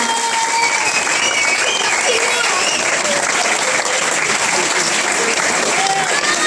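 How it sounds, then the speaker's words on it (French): A crowd applauds very loudly and continuously on cue, dense clapping mixed with cheering voices that stays at full intensity throughout. "On les applaudit très fort."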